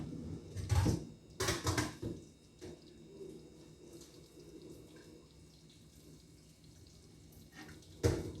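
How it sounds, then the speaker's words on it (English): Cold tap water runs into a kitchen cooking pot while Alfredo sauce is being made. The water comes in short splashing bursts near the start and again at the end, with softer running in between. "First, I'm going to run cold water in my pot"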